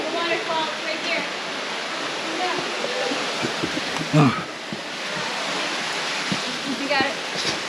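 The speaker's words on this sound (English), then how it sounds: "we made it to the waterfall" Rushing water at a waterfall reached on a side-by-side off-road outing, a steady broadband roar that fills the scene throughout, with a brief voice and some movement noise over it.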